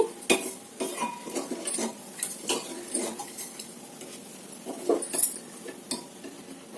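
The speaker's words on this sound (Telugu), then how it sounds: "ఇప్పుడైతే బాగా ఇలా కలుపుకోండి" A spoon stirs semiya payasam, a vermicelli kheer, as it cooks in a pot: close, irregular scrapes and light metal clinks with a gentle simmering sizzle underneath.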